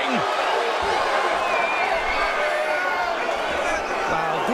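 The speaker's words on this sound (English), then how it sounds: "The crowd erupting." A boxing crowd at the David Benavidez vs. Kyron Davis fight roars in a loud, sustained wall of cheering that never lets up.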